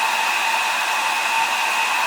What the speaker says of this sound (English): testing will be fan on, hairdryer on